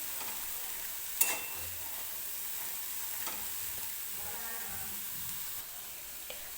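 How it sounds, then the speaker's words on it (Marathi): Green chickpeas roasting in a pressure cooker give off a soft, continuous sizzling hiss, low and steady throughout, with a few faint clicks and one sharper tick early on. "हरभरा भाजतोय"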